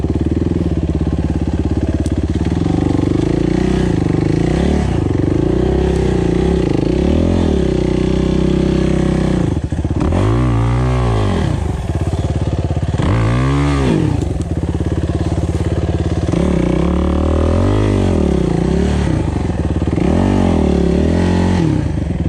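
A Suzuki RMX450Z enduro motorcycle stuck in deep sand revs loudly and close, its engine rising and falling in repeated surges as the back wheel digs in.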